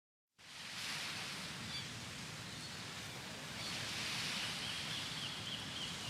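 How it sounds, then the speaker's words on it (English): A wave sound effect, with waves and seagulls added to a virtual beach scene, gives a steady wash of surf that starts abruptly and holds at an even level. "Let's get the sound of some waves and seagulls."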